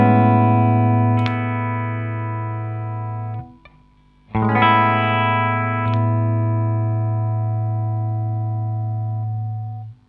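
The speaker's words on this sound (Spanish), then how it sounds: "puedo tocar un acorde con este micrófono y rápidamente pasar al otro" An electric guitar with a Lollar Charlie Christian pickup rings out one sustained chord that cuts off briefly as the pickup is switched. The same chord then rings again, clear and close, and slowly fades with no talk.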